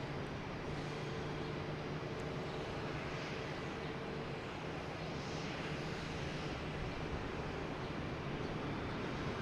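A JetBlue Airbus A220 arrives from San Juan at Boston Logan Airport, its engines giving a steady, loud roar that holds throughout without any talk.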